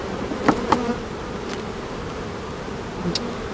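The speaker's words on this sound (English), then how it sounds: "Ton of bees on the inside of the box." A dense, continuous hum of many honeybees buzzing close by inside a hive box, with a few individual bees droning louder as they pass.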